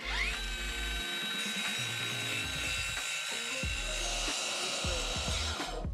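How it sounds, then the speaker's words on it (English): A power tool saws through a cabinet toe kick to trim it down, its loud, steady grinding whine running the whole time with bursts of rough cutting and rattling. "So I'm gonna trim down this toe kick here."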